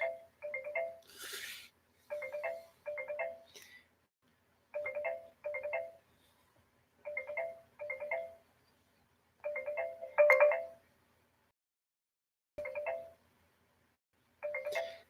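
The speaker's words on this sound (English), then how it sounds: "Stupid phone. Stop ringing." A phone rings in repeated pairs of electronic trills with short gaps between them, clear and fairly close, with a brief rustle in the middle and no talking.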